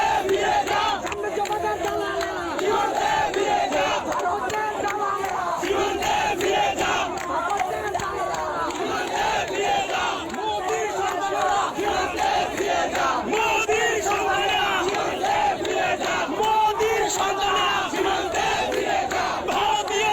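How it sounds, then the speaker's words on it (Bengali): A large crowd at a protest rally chants slogans in loud rhythmic unison, voices rising and falling in repeated bursts throughout, dense and close with no single speaker standing out. "শুনুন আরো একটা স্লোগান, শুনুন।"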